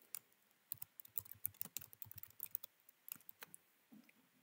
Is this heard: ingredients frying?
no